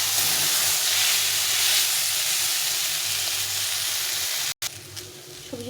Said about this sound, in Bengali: সবজিটাকে ভালো করে ভেজে নিতে হবে।